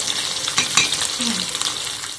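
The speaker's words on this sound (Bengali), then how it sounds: "মাছটা এদিকে খুব সুন্দরভাবে ভাজা হয়ে গেছে" Continuous hissing sizzle of pabda fish frying in hot oil, with a few sharp crackles and a faint clink.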